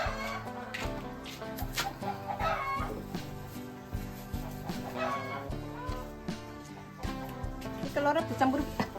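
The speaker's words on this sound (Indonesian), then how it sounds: "Itu suara ayamnya ada di sebelah sini ya teman-teman." Chickens cluck close by in a village home kitchen, repeated busy clucks through steady background noise while people talk over them.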